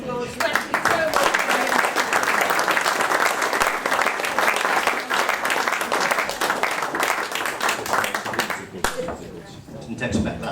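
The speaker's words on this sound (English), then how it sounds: "big round of applause" Big round of applause from the audience at a live music concert, loud dense clapping sustained for several seconds before tapering off near the end, with a few voices faintly mixed in.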